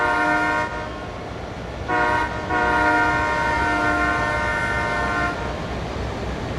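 Train in the Train Sim World 5 game, heard as a loud, continuous engine drone layered with sustained horn-like tones that swell and fade, with no talking.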